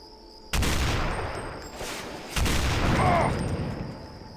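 Rifle fire in the stealth shooter Deus Ex: two heavy, close gun bursts a couple of seconds apart, each followed by a long rumbling decay, with faint speech underneath.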